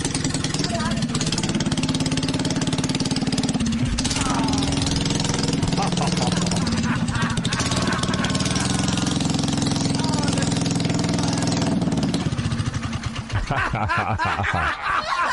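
A tiny motorcycle engine putters and idles loudly and steadily close by, with laughter and chatter from people over it.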